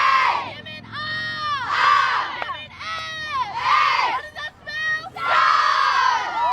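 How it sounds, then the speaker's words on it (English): Rival cheer squads at a girls' under-15 lacrosse national final chant and shout in loud rhythmic bursts, crowd voices rising and falling in waves with brief gaps between chants. "the great cheer squad battle we're sandwiched between here"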